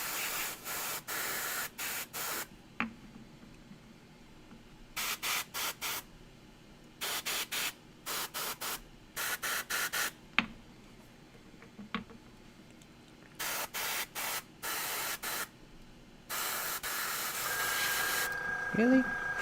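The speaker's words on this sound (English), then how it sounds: "The joys of airbrushing." An airbrush sprays paint onto salamander miniatures in repeated short hissing bursts of varying length, with a steadier, longer spray near the end, all fairly close and with no talking over it.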